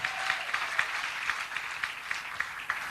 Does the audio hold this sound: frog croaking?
no